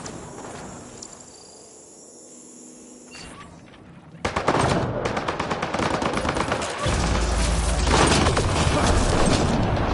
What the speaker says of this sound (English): Turn those turrets on Merryweather's men